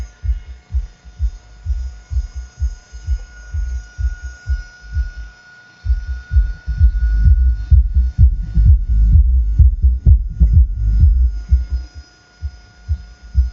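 A subwoofer driven by a repaired Taramps MD8000.1 car amplifier thumps out a steady, deep pulsing bass beat, loud and close, briefly dropping out before returning stronger and denser, with a faint electrical hum underneath.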